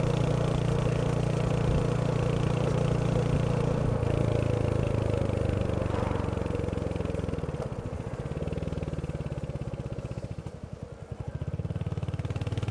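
Royal Enfield Hunter 350 motorcycle engine running nearby, a steady low thumping idle that holds loud, dips briefly and returns, with no talk.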